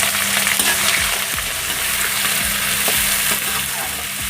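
Green chillies and asafoetida fry in hot mustard oil, giving a continuous close sizzle with occasional stirring scrapes and no talking.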